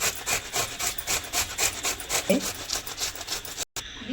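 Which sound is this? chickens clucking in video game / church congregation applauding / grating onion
grating onion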